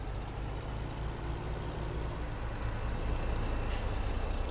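A semi-truck idling and reversing while hitching to a dump trailer in Farming Simulator 17: a steady, close diesel rumble with a continuous broad hiss that grows slightly louder near the end.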